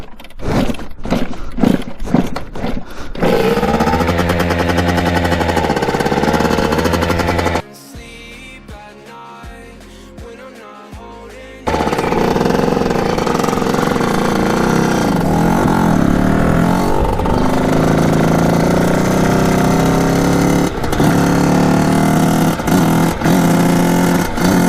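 A Kawasaki KX80 dirt bike fitted with a 110cc big bore kit revs loudly up close, with sharp blips that give way to a sustained, snarling roar, a brief quieter idle gap, and then steady high revving again.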